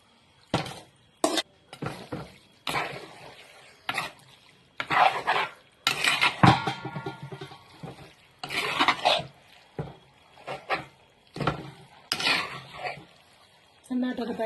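Beef being stirred and rubbed with masala in a clay pot, heard as a series of short, distinct scraping and knocking strokes separated by brief quiet gaps, close by and moderately loud.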